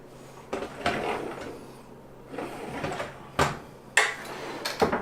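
A kitchen drawer in a compact modern prefab tiny house slides open and shut several times, each pass a short rolling rumble ending in a sharp knock, close by and spaced irregularly, with no talking.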